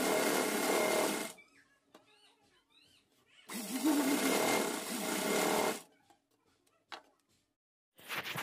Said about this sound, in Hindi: दोनों पट्टियों में हमने सिलाई लगा ली है